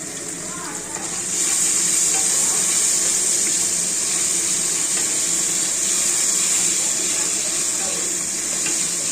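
Potatoes frying in a pan with a little turmeric, a loud steady sizzle that swells after the first second or so and holds through, with faint stirring underneath and no talking.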